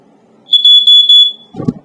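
A First Alert smoke alarm sounds three quick loud high-pitched beeps in a row, followed by a brief low thump or handling noise.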